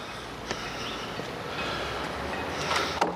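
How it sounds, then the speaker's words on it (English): A train approaching the level crossing at Watchet, a low steady rumble with faint rail clatter and a few sharp knocks, growing slightly louder toward the end, no one talking. "There's a train coming."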